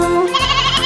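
A little lamb bleats in a children's cartoon song, a single sustained, bright, nasal bleat heard close and loud over the musical accompaniment.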